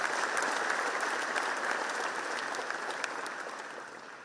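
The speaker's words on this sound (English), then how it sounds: "Let's give a big applause to our Vice President." A seated audience at a college freshers' induction programme in Chennai gives steady applause for a vice president, fairly distant, gradually tapering off over a few seconds.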